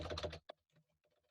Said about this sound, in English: And then you can also type out as you do this. You can type your model.